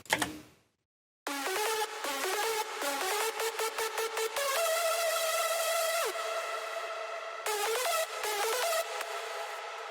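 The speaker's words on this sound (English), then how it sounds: "So these are the different layers from the melody." A bright synth melody layer from a dance track, quick choppy stabbed notes with a few sustained and bending tones, played alone after a brief pause.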